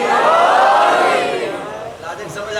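A majlis crowd at a Shia religious gathering shouts the Nara-e-Haidari chant together, a loud sustained roar of many voices that swells early and tapers off toward the end.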